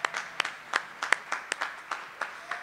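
Scattered hand claps from an audience, light and irregular, at moderate distance without building into full applause.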